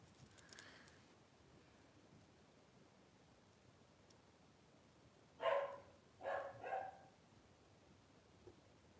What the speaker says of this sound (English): My dog's barked.